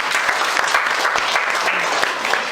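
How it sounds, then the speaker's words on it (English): An audience applauding a debate judge at a classroom debate, a dense burst of many hands clapping that carries through steadily at a fairly loud level. "A round of applause"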